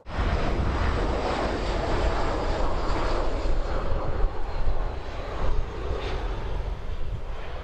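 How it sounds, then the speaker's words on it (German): A fixed-wing aircraft roars loudly overhead at a coastal camper van spot in the Algarve, Portugal, a broad continuous engine rumble that stays strong throughout with no talk. "die Flugzeuge sind echt richtig laut"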